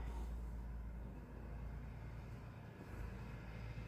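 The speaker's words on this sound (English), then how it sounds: "Oh, sorry if you can hear the tractor in the background." A tractor rumbles low and steady in the background, a distant engine drone with no other distinct sounds over it.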